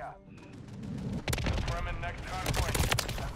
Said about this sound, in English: Whoa, I'm being shot.